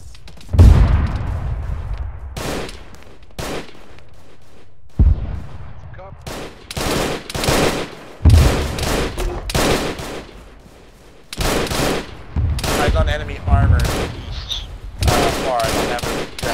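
Bursts of loud, close gunfire in a military video game, sharp repeated volleys and rapid automatic strings separated by short pauses, with voices talking between the shots.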